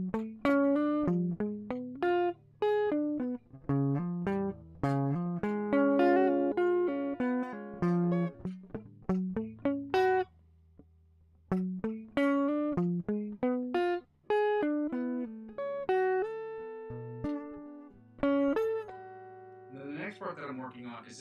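An electric guitar plays the opening part of a song as a clean, close, steady run of plucked notes and chords with short pauses, continuing alone for about twenty seconds.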